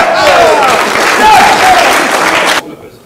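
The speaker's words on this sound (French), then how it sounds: "On l'applaudit." Audience applause at a company safety forum theatre show, clapping with lively voices mixed in, loud and full before cutting off abruptly near the end.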